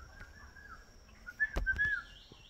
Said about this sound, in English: Hey, Stretch, here's your favorite bird.